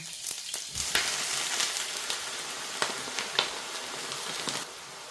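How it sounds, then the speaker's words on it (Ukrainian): Eggplant slices frying in hot oil in a pan give a steady crackling sizzle, with scattered louder pops and spits throughout. "тепер ми їх солимо та обжарюємо в олії"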